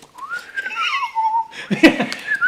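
A person whistles a wavering, sliding tune up close, then breaks into laughter partway through.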